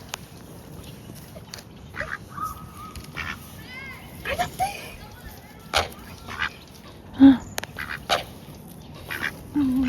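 Ducks or geese out in the wild in Mexico give brief, scattered quacks and honks at mid distance. People chatter and call out over them, and the animal calls come and go in short bursts.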